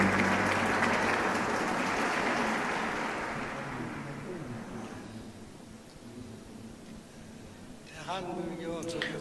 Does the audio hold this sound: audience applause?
yes